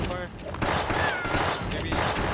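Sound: gunfire in a shooter video game

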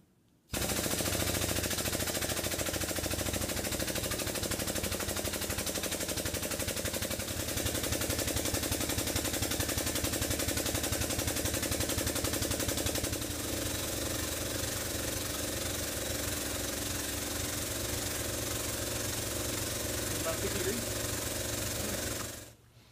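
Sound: air/hydraulic tubing bender bending tube

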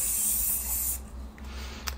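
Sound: spray bottle spraying inside of a waist trainer

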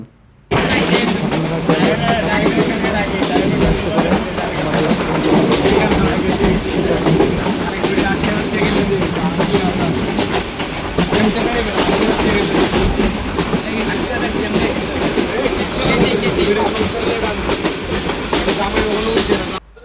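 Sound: moving train, departing Sylhet railway station

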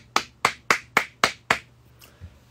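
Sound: single person clapping hands

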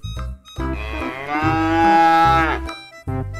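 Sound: cow mooing

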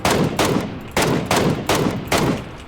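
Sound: gunfire in video game

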